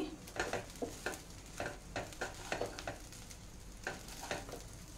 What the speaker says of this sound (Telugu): ఇది రైస్ అంతా కలిపిస్తానండి